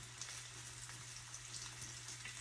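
Thin rainbow trout pan frying makes a soft, steady sizzle like light rain, faint and continuous over a low electrical hum.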